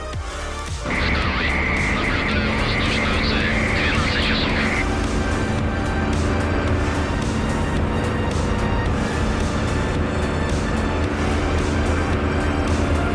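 A Spitfire fighter plane's engine roars in a flight combat video game, a loud, steady droning hum that continues throughout, with a brief higher whine early on.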